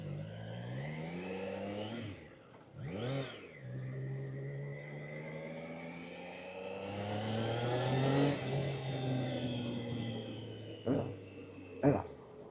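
A Triumph Trident 660 motorcycle accelerates hard through rising gears, its engine note climbing and dropping between shifts, heard from the rider's position under wind noise, fairly loud and continuous.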